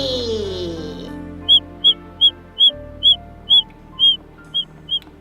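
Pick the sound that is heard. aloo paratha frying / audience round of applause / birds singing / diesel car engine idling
birds singing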